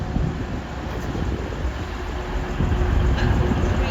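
A train pulls out of Doncaster station bound for Liverpool Lime Street, a loud, steady rumbling roar with rushing wind noise that builds slightly toward the end.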